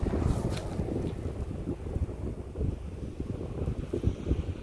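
Gusting wind picks up outdoors and buffets the microphone with a loud, rough, low roar that surges and dips unevenly throughout.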